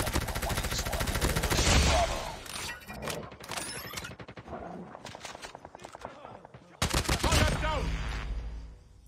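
QQ9 gun in a Call of Duty ranked match firing in bursts of rapid automatic shots, loud and close, mixed with game effects and footsteps, with the player's voice talking over it.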